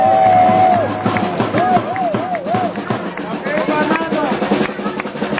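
Outdoor protest crowd against corruption at a city square, clapping and cheering loudly with whistles, horns and shouting voices mixed in throughout.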